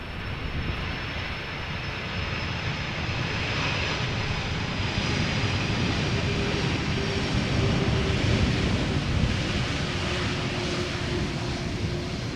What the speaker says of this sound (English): Icelandair flight 500 arriving from Reykjavik, 767-300. 2 hours 40 minutes, now touching down.